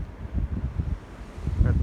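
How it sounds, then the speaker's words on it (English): Strong wind buffets the microphone beside flooded Kondinin Lake, a gusty low rumble that rises and falls over a couple of seconds with no talking. "It is very windy."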